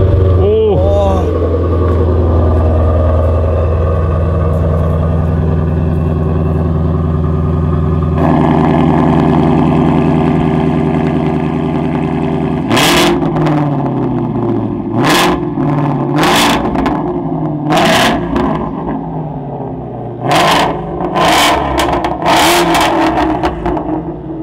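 A Ford Mustang GT350 engine idles steadily, then fires up louder and is blipped through several sharp, quick revs, with voices talking over it.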